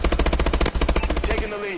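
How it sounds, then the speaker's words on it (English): Machine gun fire in a video game, a loud, close, continuous stream of rapid shots lasting over a second before cutting off into fading game sounds. "Weapons free. Light him up, Sentinel."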